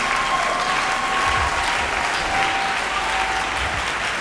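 A church congregation claps for the Lord in steady, sustained applause, a dense crowd of hands filling the room at an even level throughout.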